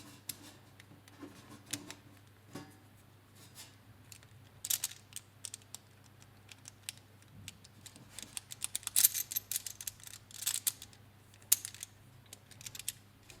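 Metal bolts of a Hanayama U&U puzzle click and tick together as they are assembled by hand: sparse, faint, close-up taps and small clatters that grow busier in quick clustered bursts.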